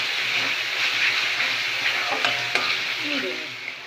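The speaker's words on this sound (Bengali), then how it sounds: "এবার জিরের গুঁড়ো দিয়ে নাড়াচাড়া করবো।" Cumin powder stirred into a spice paste frying in oil: a close, continuous hissing sizzle with a few scraping strokes of a spatula against the pan.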